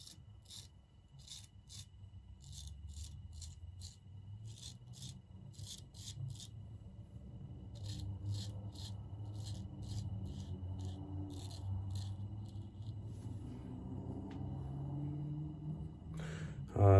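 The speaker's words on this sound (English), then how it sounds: "you're probably going to see me doing a lot more short strokes, half strokes" Straight razor strokes with a custom Koraat blade, mostly short half or buffing strokes, rasp rhythmically in quick bursts of dry scraping, close and fairly quiet over a low steady background rumble, with a brief louder sound at the very end.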